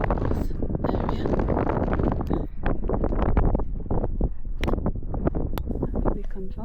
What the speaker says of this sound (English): if you can hear me for the wind